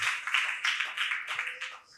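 Loud, close hand clapping in bursts of praise to God during a church sermon, with a voice mixed in among the claps.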